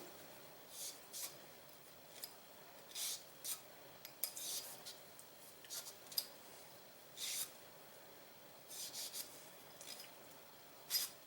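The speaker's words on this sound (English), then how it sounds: "This is just a cloth, a little nylon, not a big deal. I just want to clean out the barrel a little bit." Nylon cloth rubbed through the barrel of a Glock 21 pistol, a series of soft, irregular scrubbing and scraping strokes with short pauses between them, faint and close with no voices.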